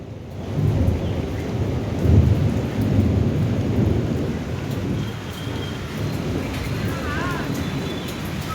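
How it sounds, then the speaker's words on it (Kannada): Heavy rain pours steadily while thunder rumbles low and deep, swelling in rolling waves through the downpour for several seconds, with a faint voice-like trace near the end. "ಗುಡುಗು ಸಿಡಿಲು ಸಹಿತ ಭಾರೀ ಪ್ರಮಾಣದಲ್ಲಿ ಮಳೆ ಆಗಿರೋದು"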